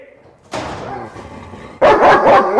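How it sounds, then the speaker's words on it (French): A dog barks in a radio drama, starting with a sustained bark and then breaking into a louder burst of rapid, close barks and yips, with voices mixed in. "Sale bête de chien!"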